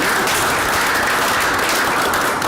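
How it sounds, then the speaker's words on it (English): Dense, loud applause from a school board meeting audience honouring the district's instructors, a steady wash of many hands clapping without pause and with no voices on top. "So I would love to give our instructors just a round of applause."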